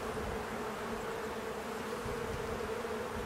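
Honey bees buzz in a steady, dense drone over an opened hive frame during a spring inspection, close and continuous with no pauses.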